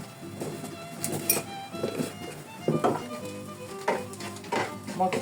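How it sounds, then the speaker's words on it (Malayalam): Spice powders — pepper powder, coriander powder and garam masala — fried in a pan while stirred, giving close sizzling with repeated scraping and clinking of the spoon against the pan, no voices. "പൊടിവസ്ത്രങ്ങളൊക്കെ ഇട്ടിട്ട് നമുക്കൊന്ന് ഇളക്കാം"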